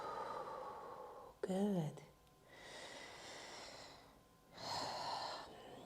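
Breath is drawn in and then slowly exhaled during a yoga session, in two long, soft, airy swells separated by a short gasp-like intake. A brief spoken word comes just before them.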